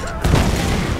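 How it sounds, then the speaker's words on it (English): Gunfire in the video game Tomb Raider (2013), a dense, sustained burst of shots filling the whole moment at close range, with a heavy thump near the start. "He's shooting at us."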